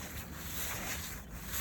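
Soft, steady scratchy rubbing of cloth over contaminated car roof paint, faint and continuous with slight swells, no voices.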